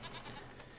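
Goats bleating in Farming Simulator 25, a faint, muffled animal call that is brief and low in level and sits under steady game ambience.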